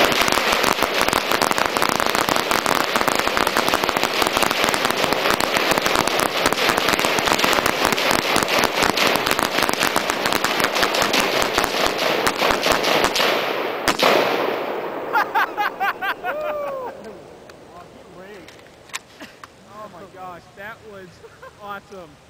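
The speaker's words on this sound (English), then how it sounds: "Did you feel the concussion from all that gun fire?" Sustained rapid gunfire from AR-15 and AK rifles at an outdoor range, a dense loud barrage of overlapping shots for most of the stretch before thinning to scattered bursts and then falling quiet, with voices near the end.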